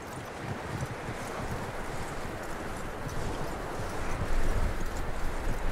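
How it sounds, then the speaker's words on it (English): A horse's hooves in Red Dead Redemption 2 clip-clop steadily over rough ground, a dense continuous trot with wind-like rustle, growing slightly louder toward the end. "That looks like a decent horse."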